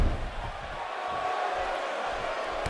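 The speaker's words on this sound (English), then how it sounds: "the energy level of this crowd right now is why I love coming to Australia." Arena crowd noise from the video game WWE 2K18 at an Australian 205 Live show with Neville and Enzo Amore, a steady loud roar with cheering that holds throughout.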